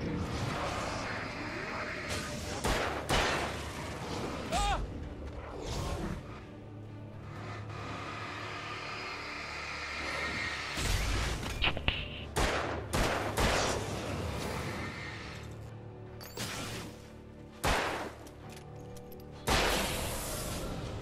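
Gunfire from the video game Alan Wake comes as loud, scattered bursts of shots and crashes, repeating in clusters across a busy, noisy game soundtrack.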